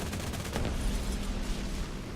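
Aircraft cannon fire in the War Thunder video game, from a German IL-2 attack plane, heard as a loud dense rattle of rapid shots, with a few sharper bursts early on over a steady engine drone.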